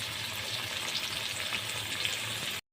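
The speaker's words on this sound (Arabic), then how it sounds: "حطينا في الطاسة اهو، يحمر نقلب ونطلع على طول." Breaded chicken cutlets fry in hot oil in a pan, a steady, dense, close sizzle that holds constant and then cuts off abruptly, with no speech.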